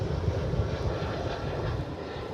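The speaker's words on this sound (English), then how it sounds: "It's an Airbus A319 coming in from Morelia in Mexico." An Airbus A319 comes in to land at Dallas/Fort Worth Airport with a steady, moderately loud jet rumble that fades slightly toward the end.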